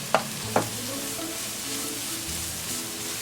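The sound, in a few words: stirring grated coconut into sprouted green gram fenugreek thoran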